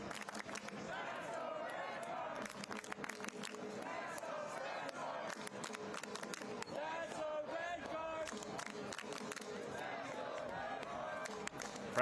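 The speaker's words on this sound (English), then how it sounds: "supporters of the Flamingos. You hear the chant." Football supporters of Forward Madison FC chant together in a stadium during a U.S. Open Cup match against FC Tulsa, a sustained rhythmic crowd roar heard at a distance with occasional claps and a voice talking over it.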